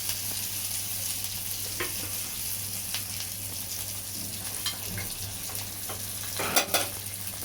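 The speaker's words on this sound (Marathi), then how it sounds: "आता छानपैकी सर्व लसूण, मिरच्या, कोथिंबीर हे सगळं छान भाजून झालंय" Garlic, green chilies and coriander frying in a hot tempering for moong dal varan, a steady close sizzle running throughout with a few sharper crackles and spoon scrapes near the end.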